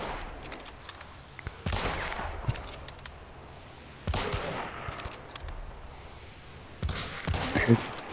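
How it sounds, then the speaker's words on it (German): Gunfire from shooting zombies in Hunt: Showdown: several separate volleys of rapid shots burst out at intervals, set apart by quieter stretches of ambience. "Ich höre sie ballern."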